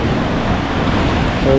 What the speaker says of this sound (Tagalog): Alon, sarap mag-surf siguro dun.